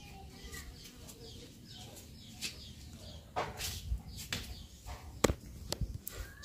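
Village chickens cluck and call in short, scattered bursts outdoors, near and moderately loud, growing busier toward the end.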